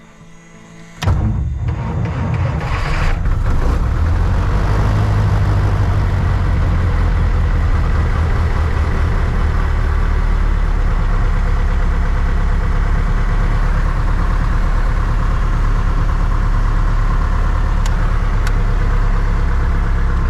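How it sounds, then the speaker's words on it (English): A small airplane's piston engine cranks and catches about a second in, then settles into a loud, steady idle with a deep continuous drone and no talking over it. "So I'm priming the engine right now."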